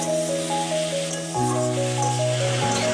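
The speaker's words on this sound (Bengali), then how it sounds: "প্রথমে আলু এবং পেঁয়াজগুলোকে হালকা আঁচে ভেজে নেওয়া যাক" Potatoes and onions frying gently over low heat for chicken noodles give a continuous soft sizzle in the pan, close and steady, with a tonal hum running underneath and no voices.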